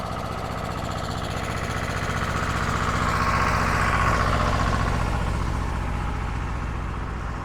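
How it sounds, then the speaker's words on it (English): A tractor rumbles past on a street in an old Spanish town, a steady low diesel engine drone that swells as it comes nearest midway and then eases off, with no talk. "Sorry, tractor coming past."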